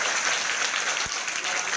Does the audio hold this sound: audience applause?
yes